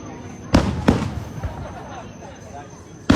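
New Year fireworks burst in a residential neighborhood, with two sharp booms close together early on, a few softer pops after, and another loud bang at the very end, under a faint steady background hum.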